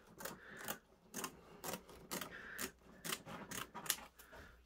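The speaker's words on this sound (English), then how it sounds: "So I'm going to cut two layers." Scissors cut through two layers of stiff leather for hat blocking, with a run of regular crunchy snips about every half second, close but quiet.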